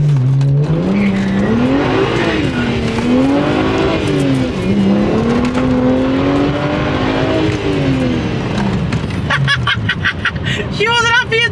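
A BMW 1M accelerates hard on a road, its engine note rising and falling through revs while sliding sideways, with tire squeal and a voice talking over it near the end.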